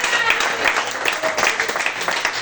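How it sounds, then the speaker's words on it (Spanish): A church congregation applauds, dense continuous clapping from many hands filling the room at a fairly loud, even level. "Demos un aplauso a Dios porque ahora mismo estamos hablando de eso"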